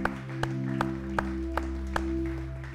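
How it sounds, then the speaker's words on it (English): A church congregation claps in a steady beat, sharp evenly spaced claps over a sustained organ-like tone in a reverberant worship hall. "Why don't you give the Lord a hand clap one more time?"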